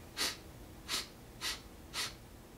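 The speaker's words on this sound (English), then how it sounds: "Short, quick sniff." Four short, quick sniffs through the nose for didgeridoo circular breathing, evenly spaced and close, each a sharp breathy intake.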